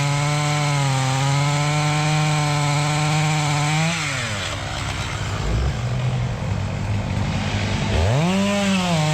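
A chainsaw cuts a hinge into an old oak tree: the motor holds a loud, steady whine, bogs and drops as the chain bites the wood, then revs back up near the end.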